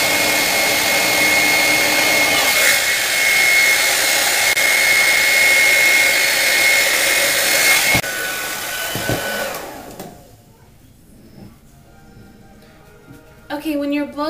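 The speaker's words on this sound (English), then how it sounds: "when you're blow drying" Handheld hair dryer blowing steadily and loudly on short hair for about eight seconds, then cutting off, leaving quiet room sounds and brief talk near the end.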